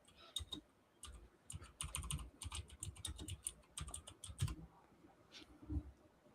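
Rapid, uneven clatter of fingers typing on a computer keyboard, keystrokes coming in bursts with brief pauses and a couple of heavier thumps, close and fairly quiet with no talking.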